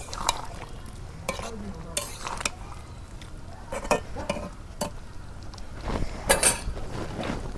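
A spoon scrapes and clinks against a pot while chicken and fried potatoes are stirred together in village-style cooking, with irregular metallic strokes over a soft sizzle, close and fairly quiet.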